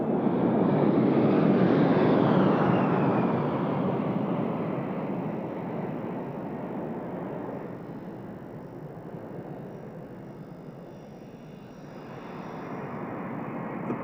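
Fighter jets from the 81st Fighter Squadron fly past in Finger 4 formation at an air show at RAF Fairford, a loud, broad jet roar that swells early, slowly fades, then rises again, with no talk.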